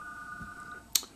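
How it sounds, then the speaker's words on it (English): An office telephone on line one rings after hours. A single steady electronic tone holds for most of a second, then ends in a sharp click, with no voices. "That's the phone."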